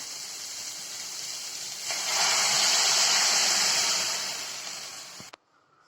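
Water poured into a hot pan for semiya upma, a rushing hiss that swells and holds for a few seconds, then fades and stops abruptly with a clunk.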